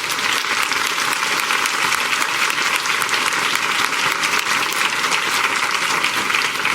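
An audience claps for panelists after a women in cybersecurity discussion, producing dense, sustained applause that stays loud and even throughout, with no voices standing out.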